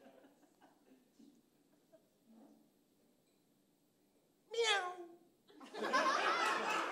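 A person imitates a cat meowing, with two drawn-out meows after quiet murmuring and faint laughter.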